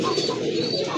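A pair of deep red-eyed fancy pigeons coo steadily and close by, a continuous low warbling murmur with faint chirps mixed in and no talking.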